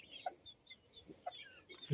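Several soft, short clucks from chickens at close range, spaced irregularly over a quiet background.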